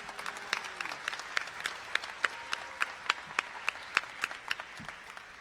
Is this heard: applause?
yes